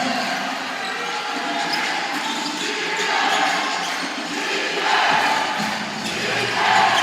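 A basketball crowd of Taguig fans during an NBL game against Pampanga, a loud, rolling arena roar that swells and dips, with a commentator talking over it.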